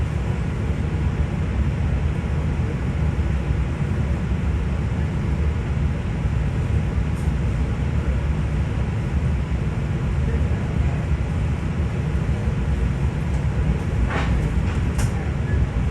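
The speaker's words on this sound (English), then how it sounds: "The only eastbound direct train from Penn Station that would go out towards my branch is 8736, which you can see here pulling into the yard at Speonk." An LIRR train, number 8736, pulls into the yard at Speonk with a loud, steady rumble that fills the whole stretch, and a few faint squeals come near the end.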